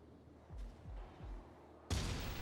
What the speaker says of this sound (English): there's simply too many enemies firing at you at once